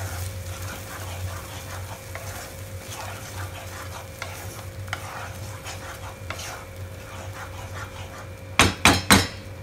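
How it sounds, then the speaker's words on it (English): A spoon works masala with paneer around a pan over a continuous sizzle, with soft scraping strokes and then three loud sharp knocks against the pan near the end. Faint voices may sit underneath. "Mix it nicely."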